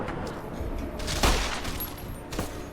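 Gunfire in the video game Fallout New Vegas: a burst of shots with one heavy, loud blast near the middle and a lighter report toward the end, over a steady layer of game noise.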